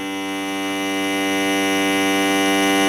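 A COMRUAK vacuum sealer running on auto dry mode gives a loud, steady electric motor hum with a strong even drone that holds constant for a few seconds, no voices.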